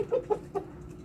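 Egg-laying hens give three or four short, soft clucks close by in quick succession, with no voices.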